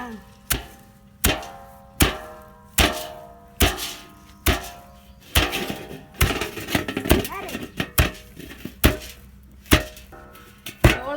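Sorghum grain pounded in a mortar in a village kitchen: steady, evenly spaced heavy thuds roughly every second, with a quicker, busier stretch in the middle and faint talk between strokes.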